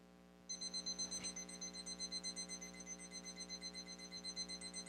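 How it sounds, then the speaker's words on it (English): A kitchen cooking timer goes off after a moment of quiet, beeping in a rapid, steady pulsing pattern that continues evenly and stays clear and prominent, marking that a Cajun-spiced goose is finished cooking. "There's our alarm."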